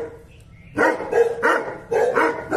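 Several dogs bark in loud bursts at a family home in a village, close by, with a quieter stretch at the start and energetic barks after.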